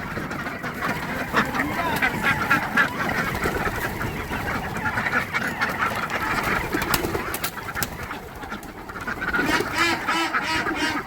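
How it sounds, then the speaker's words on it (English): Ducks on a homestead at morning feeding time, with a dense, continuous chatter of quacks and clucks from several fowl close by, steady throughout. "Okay, off to feed the duck."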